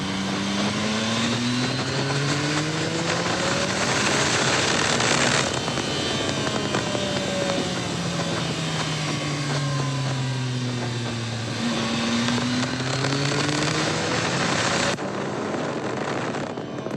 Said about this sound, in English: let's give it another little bit of juice.